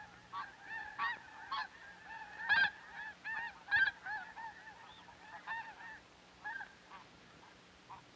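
Snow geese honk repeatedly in the Arctic, a flock of nasal calls in irregular bursts, some close and loud, others fainter, over a quiet open background.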